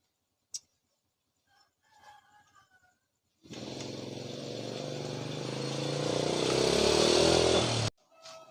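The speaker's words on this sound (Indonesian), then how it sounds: "bocah naik motor kencang banget" A motorcycle roars past close by, its engine rising loudly for several seconds before cutting off abruptly, after a sharp click and faint murmurs.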